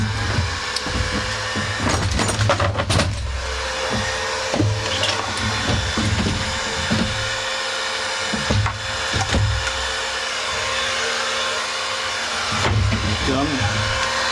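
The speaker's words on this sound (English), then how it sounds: "heating gun." A heat gun blows steadily in a workshop while a Stihl FS51 trimmer is worked on, a loud continuous whooshing roar with scattered knocks and handling clatter over it.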